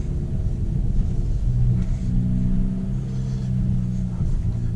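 A 2022 Hyundai Elantra N being driven in N custom mode with stiffened suspension, producing a steady low engine and road rumble that swells slightly as it pulls, with no talk over it.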